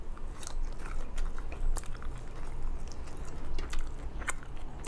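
Close chewing and biting of a Lao meal of fermented fish dip (jaew padaek) with sour fish eggs: a steady run of crunchy, wet mouth sounds with irregular sharper bites, alone and without talk.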